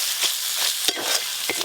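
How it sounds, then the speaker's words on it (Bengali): Onion, ginger and garlic fry in a pan with a bright continuous sizzle, broken by a few scraping stirs of a spatula, close and fairly loud. "পেঁয়াজ আদা রসুন ভালো করে ভাজা ভাজা হয়ে গেল"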